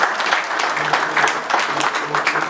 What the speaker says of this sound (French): Je vais vous demander vraiment de les applaudir